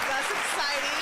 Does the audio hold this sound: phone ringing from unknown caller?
no